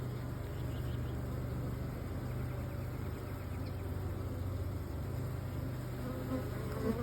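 Dense, steady buzzing of many honeybees crowded around an intruding carpenter bee inside a hive, a close continuous drone with no talk.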